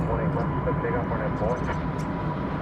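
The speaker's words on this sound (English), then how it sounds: "we saw the undercarriage of American Flight 2612 arriving from Denver, Colorado" American Airlines jet arriving at DFW Airport from Denver, a faint, steady engine drone heard at a distance beneath a voice talking over it.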